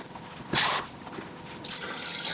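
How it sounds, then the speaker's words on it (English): Water is added to a measuring container in a home kitchen while making keto butter coffee ice cream. A brief, bright splash of pouring is followed by softer trickling and dripping, close by with no talk. "I will add some water to this as well"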